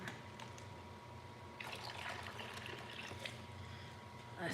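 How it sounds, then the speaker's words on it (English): Water is poured out during a rockhounding session, giving a faint, steady trickle and dribble that runs for several seconds under a low background hiss. "Pour the water out."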